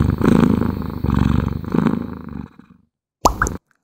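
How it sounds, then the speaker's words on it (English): Close, loud purring from a cat comes in three steady rhythmic bursts, followed by silence and then a brief separate knock or plop near the end. "Did you hear the cat?"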